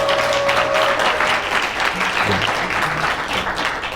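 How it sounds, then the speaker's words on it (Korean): A lecture audience breaks into loud, dense applause at the close of a special talk on Christian theology, the clapping filling the hall continuously from start to finish. "다시 한번 박수."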